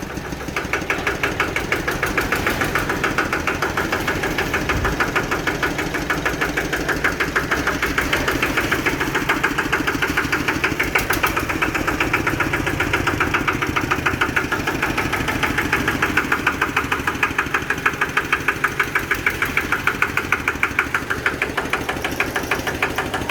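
A small Kubota diesel engine of about 10–11 horsepower on a mini farm vehicle idles steadily and loudly with a rhythmic knocking chug that holds constant throughout, without any voices.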